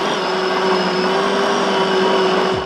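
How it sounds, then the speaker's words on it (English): An electric blender whirs steadily as it mixes sausage meat emulsion, a loud, constant motor hum with no breaks that cuts off at the end. "I pass everything through the blender again."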